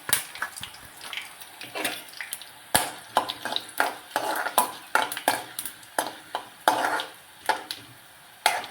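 Coriander seeds fry in oil in a pan under a thin sizzle, broken by a quick run of sharp scraping and tapping strokes from a spoon stirring them.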